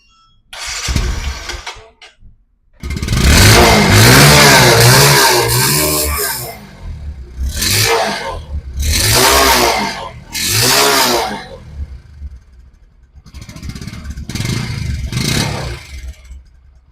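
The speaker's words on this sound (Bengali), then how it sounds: "তো চলুন এই বাইকটি সাউন্ডটা শুনুন আপনারা" A Bajaj Discover 125cc motorcycle engine starts with a short cranking burst, then revs repeatedly in loud, close surges that rise and fall with pauses between, ending in a few quieter blips.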